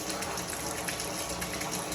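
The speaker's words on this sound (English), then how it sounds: "you can see right now our T&P valve is blowing" Water gushes steadily from the T&P relief valve on an AO Smith commercial water heater, a loud, continuous rushing spray with no talk over it.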